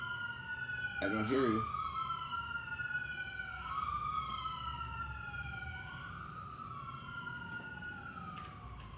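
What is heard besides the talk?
sirens wailing outside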